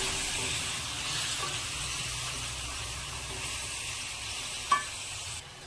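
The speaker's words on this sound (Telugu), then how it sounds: "ఒక టేబుల్ స్పూన్ సాల్ట్, కొంచెం పసుపు వీటిని వేగనివ్వాలి." Leftover vegetables with salt, turmeric and curry leaves fry in a pan, giving a continuous even sizzle and hiss, with a brief clink near the end before the sound drops.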